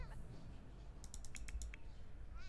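Quick burst of computer keyboard typing in The Sims video game, a short run of light clicks over a low background hum.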